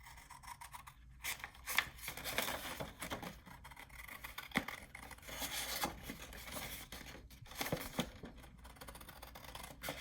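Scissors snip and slide through a sheet of 12x12 paper for a junk journal, giving close, quiet, irregular cutting and rustling strokes with no talking.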